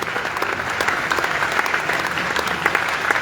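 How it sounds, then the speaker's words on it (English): Sustained applause from a large conference audience at a real estate marketplace exhibition in Lagos, dense and steady clapping throughout with no voices standing out. "Let's just give them a big round of applause so that they can come."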